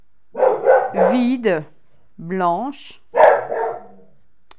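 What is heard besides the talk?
dog barking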